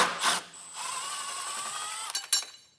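A ratchet wrench with a 17mm socket turns a bolt during a trailer hitch install on a 2022 Toyota Highlander, giving a quick, close, steady clicking run that ends in a couple of sharper clacks.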